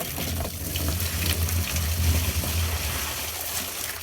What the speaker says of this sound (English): he's gonna start adding water